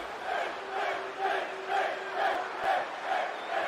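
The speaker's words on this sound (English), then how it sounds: "But it seems like the crowd's really behind Finn tonight." A wrestling arena crowd in WWE 2K20 cheers and roars in waves, a dense wash of voices swelling and easing in a steady rhythm, moderately loud and without clear talk on top.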